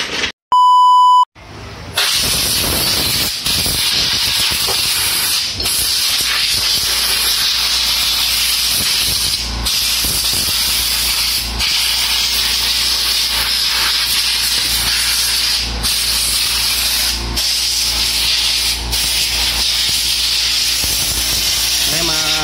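Cleaner sprayed onto the throttle body of a Mitsubishi Mirage 3A92 DOHC engine in an auto shop, a loud, continuous aerosol hiss lasting many seconds with brief dips. A short electronic beep comes first.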